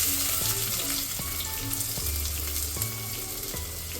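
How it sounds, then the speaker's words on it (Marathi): Finely chopped garlic fries in hot oil for white sauce pasta, a bright close sizzle with occasional clacks of a spoon stirring the pan, no voices. "आपण आहे ना बारीक चिरून घेतलेली जी लसूण होतं ते आपल्याला ह्याच्यामध्ये आता तेल गरम झाल्यावरती टाकायचं"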